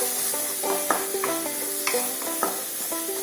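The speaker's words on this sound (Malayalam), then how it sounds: "ഒന്ന് നല്ലോണം ഒന്ന് ഇളക്കി ഒരു സെക്കൻഡ് മൂടി വെക്കണം." A spoon stirs Kerala coconut curry masala in a pan, scraping and clinking against the metal in uneven strokes over a soft sizzle, with faint tonal ringing between the strokes and no talk.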